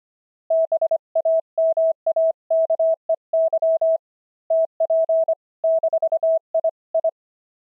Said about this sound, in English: First, the iambic paddle at 25 words per minute.